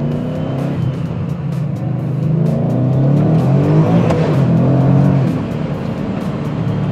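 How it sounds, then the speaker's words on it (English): A supercharged S197 Mustang with a Vortech supercharger accelerates hard through the gears on a cold day, its loud, close engine climbing in pitch with each rising sweep and shift. "this you can shift with confidence from second, just pushing straight forward, goes into third every time"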